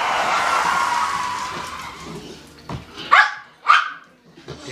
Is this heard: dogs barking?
yes